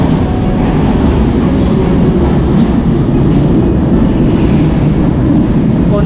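A light rail (LRT) train passing near a station platform, a steady loud rumble of wheels and rail noise filling the whole stretch without talk.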